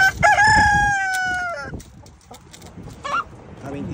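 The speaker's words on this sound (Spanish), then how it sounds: "Estos son gallos" Roosters crow nearby, one long loud cock-a-doodle-doo cutting off sharply, then a short second call from another bird amid quieter background chatter.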